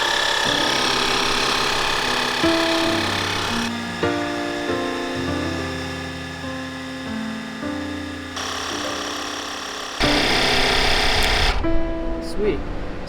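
Portable tire inflator from Temu pumping a car tire toward its set pressure, a loud, steady mechanical buzz with a pulsing rhythm that shifts pitch partway through, close to the microphone.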